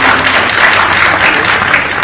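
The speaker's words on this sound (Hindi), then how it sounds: "एक जोरदार ताली के साथ उनका स्वागत" A loud, dense burst of audience clapping fills an auditorium at a birthday event in Ranchi, steady and close throughout the short stretch.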